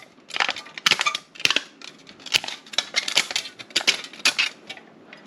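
Sharp crinkling and snapping as a thin aluminium soda can is cut and pushed apart at the seam to make an alcohol stove, a quick series of close, crisp metallic clicks and crunches.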